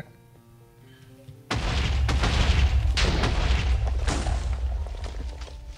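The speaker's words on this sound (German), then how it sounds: "So, Sprengung ist gezündet. Yay. Explosionen." Blasting explosions go off in the Minecraft video game: a sudden loud boom, then a rapid string of heavy detonations rumbling on for several seconds.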